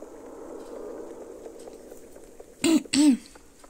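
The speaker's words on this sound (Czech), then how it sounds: "se omlouvám, že kašlu, mám chrapot" Two short, harsh coughs from a hoarse woman close together near the end, after a stretch of quiet room tone.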